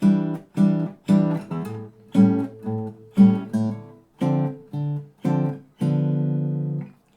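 An electric guitar plays a sequence of short three-note jazz chord voicings over a minor ii-V, about ten strums in a steady rhythm, ending on a longer held chord.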